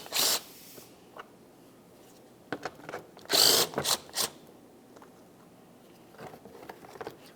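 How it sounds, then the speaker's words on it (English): A ratchet works loose the 10mm bolts holding the license plate bracket on a 2006-2012 Ford Fusion front bumper, giving short clicking bursts separated by pauses. "Remove your two 10mm headed mounting bolts."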